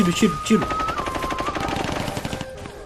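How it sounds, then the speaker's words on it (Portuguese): Rapid bursts of gunfire in the detective game L.A. Noire, a dense run of shots with a low voice talking over the first half. "Eita, tiro."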